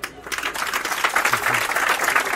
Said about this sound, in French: Madame Sandrina Gomez, que nous vous demandons d'applaudir.